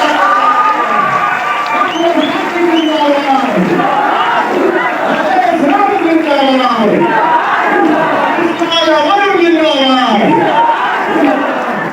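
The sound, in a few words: audience applause welcoming Manjhi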